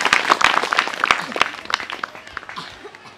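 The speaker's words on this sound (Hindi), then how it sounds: "सब ताली बजाएं यीशु मसीह के लिए" A church congregation claps together at a healing service, a dense spread of handclaps rising and falling over about three seconds, with voices mixed faintly underneath.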